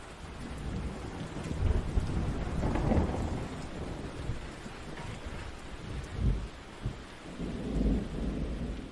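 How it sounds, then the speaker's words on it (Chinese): Heavy rain pours steadily, with deep rolls of thunder rumbling through it at close range and a louder swell near the end; no one speaks. "你看突然下这么大雨，就是老天爷的安排。"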